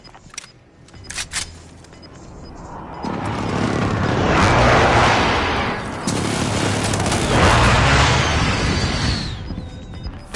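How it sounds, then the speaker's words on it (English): Precision airstrike explosions boom in Call of Duty Cold War, a few sharp clicks followed by two long, loud rumbling blasts that swell and fade in succession. "Be advised, friendly precision airstrike inbound."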